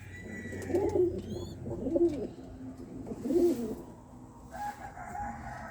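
Armenian chain play pigeons coo nearby in three soft, rolling bursts about a second apart, with faint chirps and a rooster-like call in the background.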